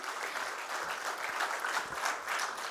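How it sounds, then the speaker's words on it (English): Steady applause from an audience at a company's stock exchange bell-opening ceremony, a dense even wash of clapping that holds without pause, moderately loud and without voices. "So I request the audience to give him a huge round of applause"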